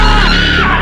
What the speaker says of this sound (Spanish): ¡No! ¡No grites! ¡No grites!